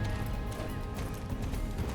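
Horse hooves clip-clop continuously in the Star Stable video game during pole bending and cross-country riding, a fast, loud rhythmic trot with no talking.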